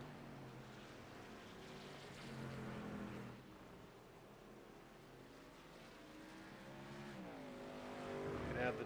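Racing trucks lapping the Daytona road course, engines droning steadily at a distance with a rising pitch sweep near the end as one accelerates, mixed with broad roaring noise and faint talk.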